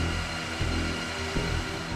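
A metal rod spins on a lathe as it is tapered and threaded into an M40A5 sniper rifle barrel, a steady close machining whir with faint periodic swells.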